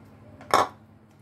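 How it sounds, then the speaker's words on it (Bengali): Fried potato pieces for chhana kofta go into a pan with one short, close clatter midway, set against a quiet kitchen background. "এখন দিয়ে দিচ্ছি আলুটা।"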